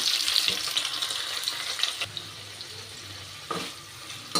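Marinated paneer, coated with turmeric, Kashmiri chilli and salt, fries in a pan with a steady close sizzle and crackle, with a few louder spatters and clatters from stirring.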